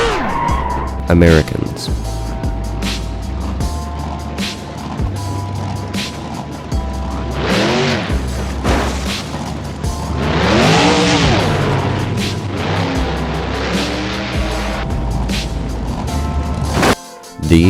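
Street racing cars skidding with squealing tires and revving engines, sweeping passes rising and falling in pitch over a sustained engine drone, loud and close, with a voice speaking briefly.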